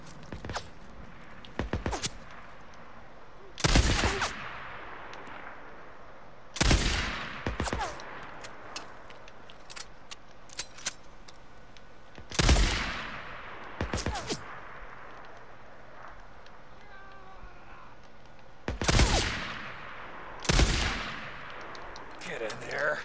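Sharp video game gunshots in Days Gone ring out one or two at a time at irregular intervals, with quieter footsteps and small rustling sounds between them.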